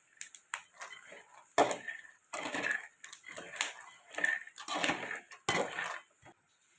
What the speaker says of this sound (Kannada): ಕೆಂಪು ಚೆನ್ನಾಗಿ ಹುರಿತಾ ಇದೆ.